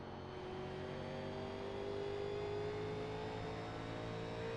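NASCAR 1987 stock car engine at Phoenix in iRacing, a steady droning roar rising gradually in pitch as it accelerates, loud and continuous with no talk.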